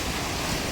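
Ocean waves wash in a steady broadband roar, close and loud with some wind buffeting the microphone, no voices heard.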